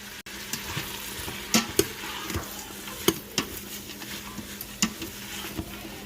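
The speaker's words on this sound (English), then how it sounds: "We're just going to saute it for like 5 minutes." Garden basil sautés in an Instant Pot with a close, steady sizzle broken by scraping stirs and light utensil clinks against the pot.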